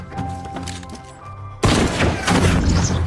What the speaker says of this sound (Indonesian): jerigen itu malah ditembak